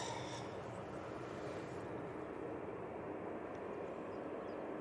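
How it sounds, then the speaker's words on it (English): easyJet Airbus A321neo at Manchester Airport, a continuous broad engine rumble and rush, steady and moderately loud throughout with no talking. "Easyjet A321neo in the Neo livery."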